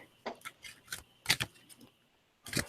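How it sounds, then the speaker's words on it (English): Playing cards are shuffled by hand in quick bursts, a crisp riffling flutter repeated several times with short pauses between, close and fairly faint, no talk over it. "I'm going to keep shuffling."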